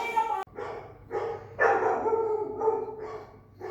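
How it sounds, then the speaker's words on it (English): A dog barks repeatedly in a yard, a series of close, loud barks at an uneven rhythm, with speech mixed in between. "barking at my wife"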